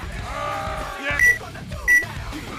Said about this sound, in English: A lot of beeps, man, a lot of beeps.